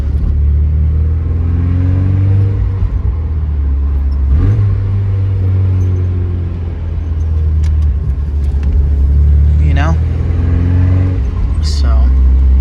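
Interior engine drone of a Porsche on the road, a steady low rumble that swells briefly as the car accelerates, continuous and close throughout with road noise underneath.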